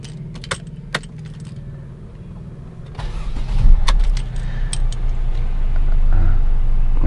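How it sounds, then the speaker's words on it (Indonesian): A Mercedes E250 rental car cranks and its engine starts after a few faint clicks and key sounds, then settles into a low, steady idle that swells slightly louder toward the end. "Akan nyalakan mesinnya dulu agar Anda bisa mendengarkan suara halus dari mobil ini, suara mesinnya."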